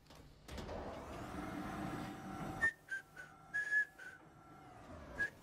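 A person whistles a few short, clear notes separated by pauses, following a stretch of steady low background rumble.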